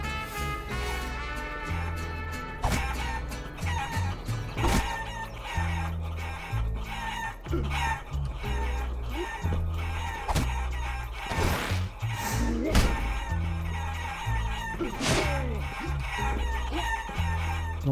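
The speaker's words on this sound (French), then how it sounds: "La maison est envahie par les poules." Chickens in the video game Guacamelee! cluck and crow over a steady background of music and effects, with frequent sharp clicks and hits scattered throughout.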